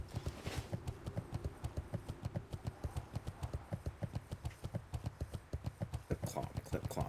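Horse hooves clip-clopping in a video game, a steady quick rhythmic trot of hollow knocks running throughout at moderate level, with brief speech near the end.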